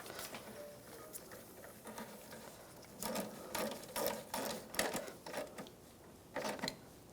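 Screws being started by hand on the starter cover of a 2009-2013 BMW 328i xDrive with the 3.0L inline-six: faint, close ratcheting clicks and light metallic tapping in irregular bursts against a low background.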